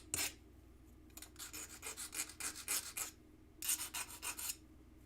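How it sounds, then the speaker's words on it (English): A metal file rasps along the edges of a small metal part, deburring it in two bursts of quick, rhythmic back-and-forth strokes, close and fairly quiet, with no voices. "You'll want to file the edges if you created any burrs or anything like that"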